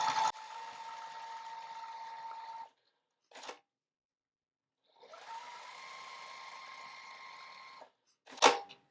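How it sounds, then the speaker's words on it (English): A sewing machine runs steadily, stitching lengthwise along fabric seams about a quarter inch from each edge. There are two long, even runs of motor whir, separated by short pauses and brief clicks, with no talking. "I'm gonna sew along the seams going lengthwise first along both sides, just about 1/4 of an inch away from the seam on both sides"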